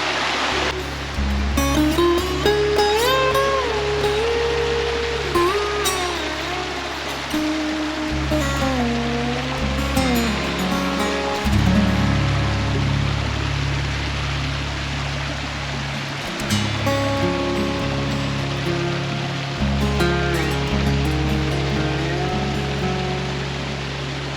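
Steady roar of rushing water runs throughout, with loud tonal music or whistling drifting over it.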